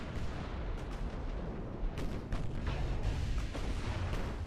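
Warship guns firing in the naval battle game Ultimate Admiral: Dreadnoughts, a dense, continuous barrage of booming shots and rumbling blasts with several sharper reports standing out, loud and sustained with no pause.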